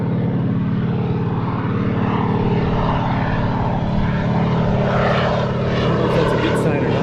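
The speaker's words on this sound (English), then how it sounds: "We got a plane coming in." A float plane flies overhead near a wilderness lake in the Boundary Waters, its propeller drone loud and steady throughout the clip.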